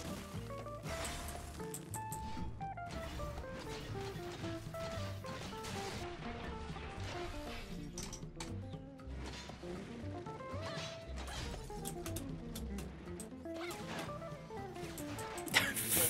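A flurry of sharp crashing and smashing impacts from a shatter attack in Tower of Fantasy, layered over busy game music, with sweeping whooshes between the hits.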